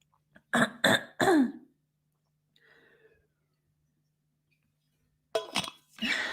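A person coughs and clears their throat in a few sharp bursts, close by, with a faint clink and quiet pause between.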